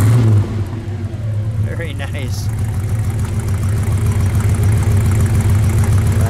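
Engine of a 1949 Cadillac Coupe DeVille prototype idling with a deep, steady low rumble, briefly blipped with a rev before settling back; a person speaks briefly over it near the start.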